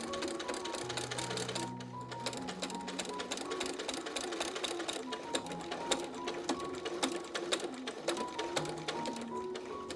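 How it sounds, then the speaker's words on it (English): A sewing machine top-stitches a corset in a steady, fast mechanical chatter of needle strokes, fairly faint and unbroken throughout, with faint tonal hum from the motor and no talk. "top stitch over the front here to make it as invisible as possible"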